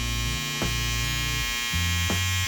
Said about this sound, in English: So I'm going to use the corner of my trimmer. I'm going to tap this corner here.